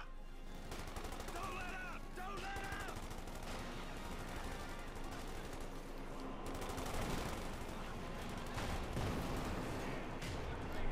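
Machine gun fire rattles in Company of Heroes 2, a one-on-one online match between Wehrmacht and US Forces, with dense bursts and explosions layered over a busy battle soundscape and a caster talking throughout.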